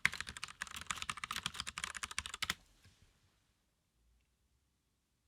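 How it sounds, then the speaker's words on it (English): A name typed on a computer keyboard: a rapid, close run of key clicks for about two and a half seconds, then the room falls nearly silent. "I'm gonna type my name again"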